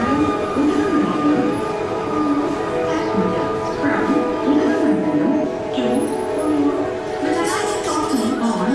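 A steam train runs on a hill railway in South India, its rolling rumble and rhythmic chuffing steady beneath a narrator's voice.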